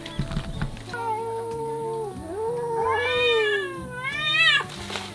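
A fat cat on a Japanese cat island in Shikoku meows loudly and repeatedly at close range, with long drawn-out, wavering cries, the last ones rising in pitch, over steady low background noise.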